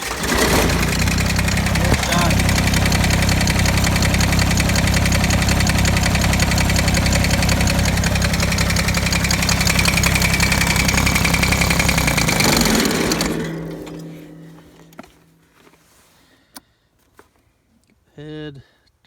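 A tractor engine, started with a 1000 amp compact jump starter, idles loud and close with a steady knocking diesel-like clatter for about thirteen seconds, then shuts down to quiet with faint clicks and a brief voice.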